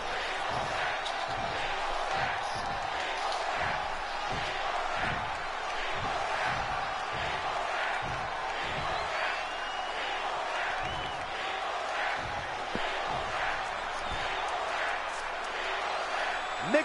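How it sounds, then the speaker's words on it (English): An excited wrestling crowd chanting in a steady rhythmic pulse, with a fan screaming above the mass of voices, the arena noise loud and continuous throughout. "Well, the crowd is excited. Definitely a fan screaming,"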